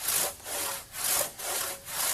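A dull one-man crosscut saw cuts through a tree branch in even back-and-forth strokes, four rasping pulls in a steady rhythm, close and alone.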